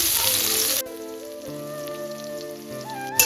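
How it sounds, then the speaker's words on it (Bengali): Chopped onion hits hot mustard oil seasoned with black cumin seeds, giving a loud, bright sizzle for under a second before it drops away beneath steady background music. "পেঁয়াজটাকে এবার খুব ভালো করে ভেজে নেব"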